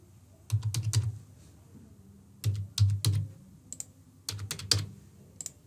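Card details typed on a computer keyboard in three short bursts of close, crisp key clicks separated by pauses, with no talk.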